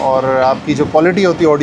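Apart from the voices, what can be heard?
No everyday noises stand out.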